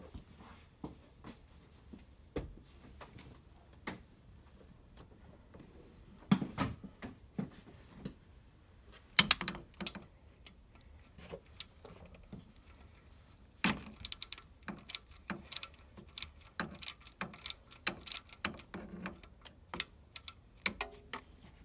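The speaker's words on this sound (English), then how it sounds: "So I'm going to take that bolt out and we're going to see what happens." A ratchet works a bolt out of an engine with faint, sparse ticking clicks, growing into quicker clusters of close metallic clicks and light tool knocks near the end.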